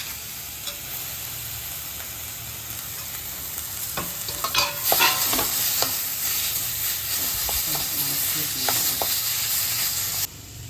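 Mashed potato for aloo bonda is stirred as it fries in a pan, a steady sizzle joined midway by repeated spoon scrapes and knocks against the pan, close and fairly loud.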